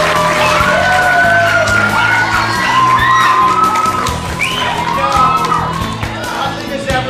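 Crowd cheering at a Cub Scout pack court of honor, with whoops, high children's shouts and yells over a loud, dense roar of clapping and voices.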